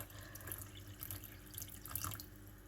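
Warm water from a kettle, topped up with cold, runs steadily into a container being filled to the brim, a continuous close trickle and splash with no talking.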